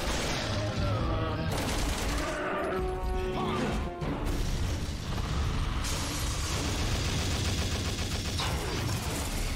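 Gunfire and crashing impacts in Resident Evil 6, a chaotic, loud barrage of shots, smashes and clattering mechanisms layered over one another throughout, with no speech.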